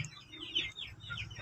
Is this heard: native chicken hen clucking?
yes